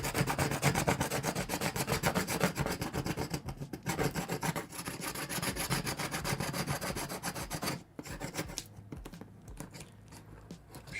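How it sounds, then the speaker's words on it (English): A Sharpie-marked barcode label being scraped off a surface, with steady, rapid rasping strokes close up that continue for several seconds before easing off near the end. "So we'll go with the old school, scrape the heck out of it."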